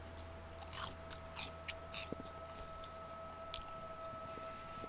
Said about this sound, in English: But you can really hear that crunch.